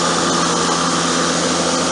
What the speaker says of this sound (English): I'm going to get back to mowing.